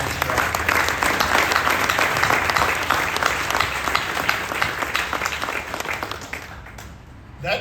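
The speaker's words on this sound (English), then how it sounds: "So I just want to thank the team and give them a round of applause" A crowd gives the team a sustained, loud round of applause at an event with Lt. Gov. Dan Patrick, dense clapping filling the whole stretch before tapering off near the end.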